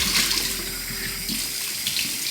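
Cold water runs steadily from a bathroom tap into a sink, a continuous close splashing hiss that holds evenly throughout with no voices.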